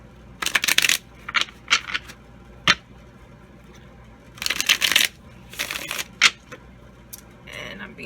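Several short bursts of crisp tarot card shuffling, riffles and slides separated by brief pauses, close and clear with no talking.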